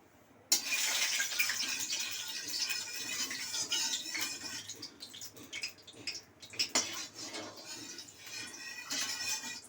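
Mustard oil poured into a pan for cooking, a steady liquid pour and sizzle that starts abruptly, runs continuously, then thins into sputtering bursts near the end, heard alone without talk.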